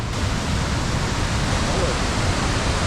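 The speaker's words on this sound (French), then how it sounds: "Oh la cascade." A waterfall in the woods of Croatia gives a loud, steady, broadband rushing roar that fills the whole stretch without pause.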